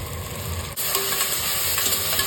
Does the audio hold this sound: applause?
no